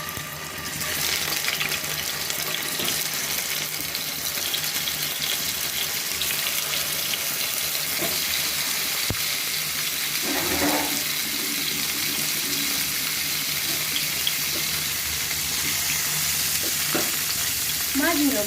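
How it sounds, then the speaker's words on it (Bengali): Pieces of rohu fish fry in hot mustard oil in a kadai, giving a steady, close hiss of sizzling throughout with occasional soft spatters and clinks, and no talking. "মাছগুলোকে আমি এবার ভেজে নেব"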